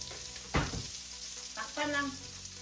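Garlic and onion fry in a pan, a broad sizzle running throughout, with a couple of louder scraping bursts as a spatula stirs them and a brief ringing clink of metal near the end.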